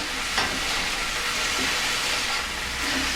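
Celery root (celeriac) slices searing in olive oil in a pan give a steady, close hiss of frying that stays even throughout, with no talk.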